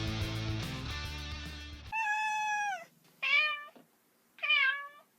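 A cat meows three times in clear succession, each a drawn-out, close and fairly loud cry with short pauses between, following a brief burst of music at the start.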